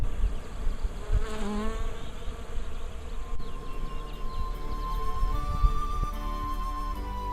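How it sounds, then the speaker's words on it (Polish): Bees and bumblebees swarm around flowering trees and shrubs, a steady close buzzing hum of many insects with individual passes rising and falling throughout, no voices. "Do kwitnących drzew, krzewów, kwiatów zlatują się chmarami pszczoły, trzmiele, motyle."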